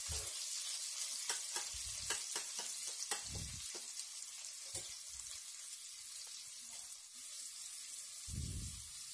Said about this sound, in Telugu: దానిలో ఉల్లిపాయ ముక్కలు వేసుకోవాలి. ఒకసారి మళ్ళీ కలుపుకోవాలి.